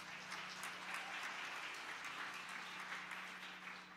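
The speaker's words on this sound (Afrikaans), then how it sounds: "Raziella Gray, gee vir lekker 'n klap" Sustained audience applause greets a violinist at a church anniversary celebration, steady dense clapping from a crowd that continues unbroken throughout without any voices.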